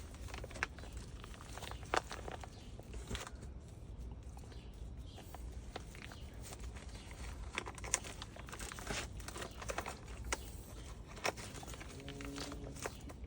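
Crinkly material is rolled up by hand in a kidney bean garden bed outdoors, a steady close rustling and crackling with occasional footstep-like crunches throughout.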